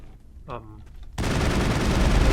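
Sustained gunfire from the Mass Effect video game erupts suddenly and loudly after a brief voice, a dense continuous barrage of shots filling the rest of the moment.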